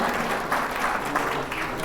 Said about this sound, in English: Give him a round of applause when you come up here